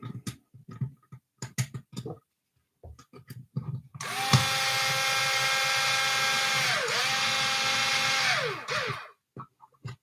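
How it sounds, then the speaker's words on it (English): Power driver running screws through an aluminium front upper mount into a plastic front bulkhead on a Yokomo SO2.0 RC car: clicks and handling taps, then a sustained whining motor run of about five seconds with pitch dips as the screw seats. "Screwing straight into, obviously, through the aluminium front upper mount and then into the front plastic bulkhead"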